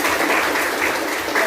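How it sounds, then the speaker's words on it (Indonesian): Schoolchildren clapping together in an Indonesian classroom lesson, a short burst of steady, fairly loud applause with no talking. "Beri tepuk tangan dulu."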